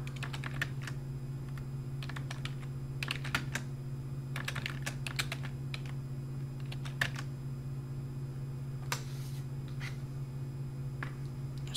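Quiet clusters of keystrokes on a computer keyboard entering project data, typed in short irregular bursts with pauses between, over a steady low electrical hum.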